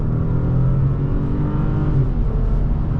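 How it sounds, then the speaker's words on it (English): A supercharged 2012 Audi A7 3.0T Quattro engine drones loudly and continuously, a steady low roar with rising harmonic whine as it pulls away from a stop. "Beautiful start from the supercharged engine."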